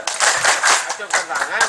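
A crowd at a campaign rally claps and chants rhythmically in loud, close bursts, voices mixing with the clapping from start to finish.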